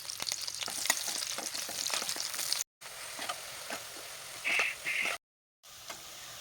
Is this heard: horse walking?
no